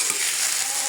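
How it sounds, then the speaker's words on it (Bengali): Potato cubes fry in hot oil in a wok, a dense close sizzle and hiss lasting under a second, loud and alone. "এখানে আমি আলুটাকে ভেজে নেব।"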